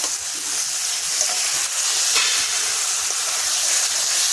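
Pieces of rui fish dropped into hot spiced masala for a curry with eggplant, giving a loud, steady, close sizzle and frying hiss that carries on without a break.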